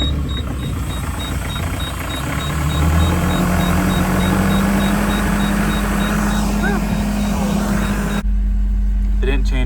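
A new M-series skid steer loader with a glow-plug diesel idles after a cold start at a house demolition site, a steady low drone close to the mic with engine tone rising midway, then cutting off abruptly near the end; voices talk over it.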